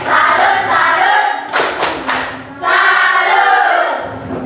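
A group performs a rhythmic clapping salute, with sharp bursts of claps and thumps between stretches of shouted crowd voices, loud and close in a room.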